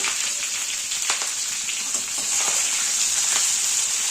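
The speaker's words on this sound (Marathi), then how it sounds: "आपल्याला यांना थोडं तेलावर परतायचं म्हणजे सगळ्या मिरच्यांना थोडं तेल लागेल" Capsicum peppers sauté in oil in a pan, a steady bright sizzle with occasional crackles and stirring scrapes, close and continuous with no talking.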